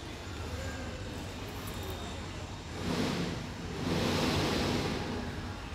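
Soaked urad dal being ground into a smooth paste, a steady broadband whir that grows louder in two steps, around the three- and four-second marks, and then holds.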